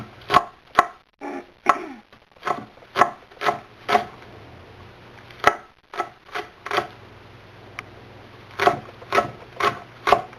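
Green onions chopped with a knife on a heavy cutting board, a steady series of crisp close knocks in short runs with brief pauses, no talking.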